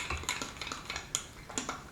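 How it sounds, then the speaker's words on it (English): A spoon clinks and scrapes around a bowl while stirring a yeast mixture, with quick irregular taps close by. "maybe I should stir this yeast because it's still a little powdery there"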